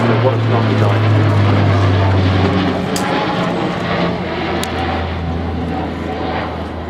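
A large military aircraft flies at the RIAT 2014 air show, giving a loud, steady engine roar with a deep low drone that fills the whole stretch.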